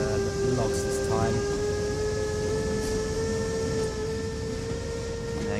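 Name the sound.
freight train moving with logs, video game Train Sim World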